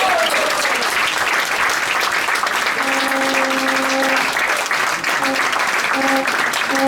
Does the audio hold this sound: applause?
yes